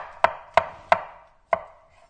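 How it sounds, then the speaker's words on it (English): Knife chopping mushrooms on a cutting board for angel hair primavera: four sharp, close chops, three in quick even succession and a fourth after a short pause, each fading fast, with no talk. "we finished chopping the mushrooms."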